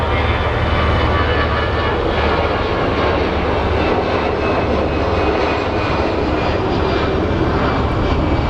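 An airliner bound for Tucson takes off at Phoenix Sky Harbor, giving a steady, loud engine roar with constant broadband rumble that holds without letup throughout.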